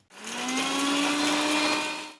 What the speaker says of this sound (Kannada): ಇದನ್ನು ಪೌಡರ್ ಆಗಿ ರುಬ್ಕೋಬೇಕು.